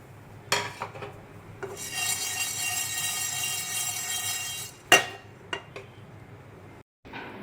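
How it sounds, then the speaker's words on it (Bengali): Spices frying and being stirred in a kadai: a steady sizzling hiss with scraping and rasping strokes of a spoon against the pan, then a few sharp clinks as it settles, no talking. "এবার এই মশলাগুলো একটু ভেজে নেব"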